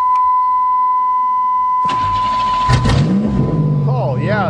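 A 1990 Buick Century engine cranks and catches after a battery install, then runs loud and close, with a steady tone before it, a voice speaking over the idle, and a rev toward the end.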